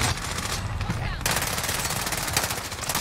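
Rapid automatic gunfire in a shooter video game, a loud sustained burst of closely spaced shots that briefly shifts in tone partway through, with battle noise and no clear speech.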